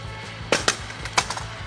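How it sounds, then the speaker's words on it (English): A hammer bangs a long siding board into place on a barndominium wall, three sharp close knocks in quick succession followed by a few lighter taps. "We're gonna kind of bang this into place."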